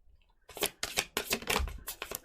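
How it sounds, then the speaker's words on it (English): Tarot cards are shuffled close up in several quick, crisp bursts of papery riffling and slapping, with brief pauses between them and a quiet start. "Shuffling out the cards now for Aries."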